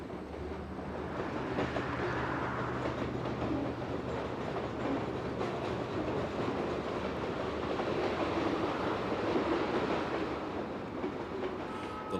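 A train rumbles along the Pennsylvania line at Altoona, where westbound trains attach helper engines, giving a steady, broad rolling roar with faint wheel clatter that holds at an even loudness throughout.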